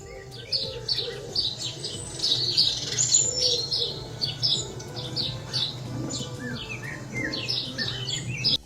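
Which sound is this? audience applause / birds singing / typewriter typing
birds singing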